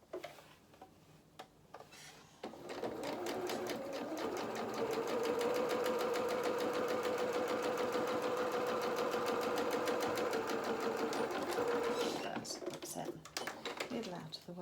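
A domestic sewing machine stitching a small doll's apron skirt runs in one long steady burst of rapid ticking whir, starting and stopping cleanly, with a person talking softly before and after.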